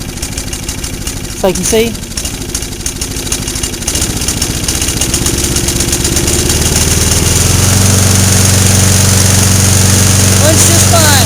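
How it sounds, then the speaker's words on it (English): Gasoline lawn mower engine converted to run on propane, idling with a steady rattling throb and then revving up to a louder, higher drone, with someone briefly speaking over it early on. "It's only running on propane. I'll try to turn the RPMs up on it for you"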